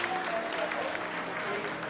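Steady applause fills an ISRO control room during the Chandrayaan-3 landing, a continuous wash of clapping layered under faint voices and room tones.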